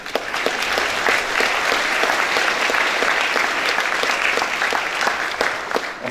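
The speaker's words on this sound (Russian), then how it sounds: "Аплодируйте, аплодируйте" Dense, loud audience applause fills a university hall, continuous and even from start to finish with no speech over it.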